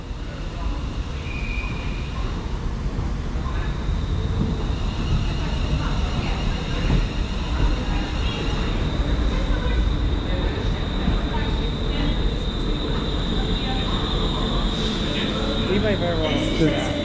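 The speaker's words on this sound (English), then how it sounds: "arriving now is the 1532 London North Western Railway service from Birmingham New Street to Liverpool Lime Street" A Class 350 electric train on the London Northwestern Railway arrives at a platform, a steady heavy rumble of wheels and motors with faint high squealing. A station announcement plays over it.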